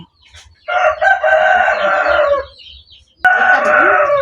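A rooster crows loudly and close by, twice in a row with a short pause between, over faint clucking and low background noise from hungry backyard chickens.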